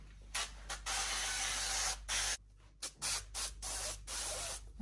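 Olive oil sprayed from a spray bottle over a salad, several short hissing bursts of mist in an uneven rhythm, close and fairly loud with no talk.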